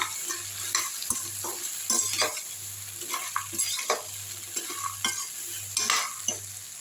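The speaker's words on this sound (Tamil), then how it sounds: "பொரிச்ச இட்லி இதை நல்லா வதக்கி விட்ருவோம்" Leftover idli pieces, fried earlier, being sautéed in a pan for chilli manchurian, with a spatula stirring and scraping in an uneven rhythm over a soft sizzle, close up and without speech.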